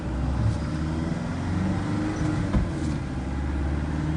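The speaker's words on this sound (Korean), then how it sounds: "엔진이 이렇게 가속하면서 들리는 소리도 아주 길이 잘 들어있는 것 같은 그런 느낌의 소리가 납니다" A 2005 Hyundai Porter double-cab one-ton truck engine pulls as it accelerates, a close, steady low rumble with a slight bump near the middle and a light tick or two, with no talk over it.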